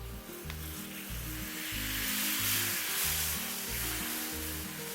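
Water poured into hot oil with chilli and spice powders for a Kerala fish roast, a loud hissing sizzle that roars up close and stays dense over a low humming background.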